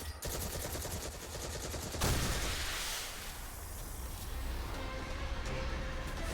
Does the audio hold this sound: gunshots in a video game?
yes